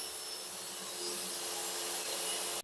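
A table saw cuts the wooden base of a crosscut sled to length, giving a steady, loud, broadband whine and rush that holds evenly throughout before cutting off abruptly.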